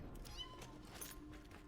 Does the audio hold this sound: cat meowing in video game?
yes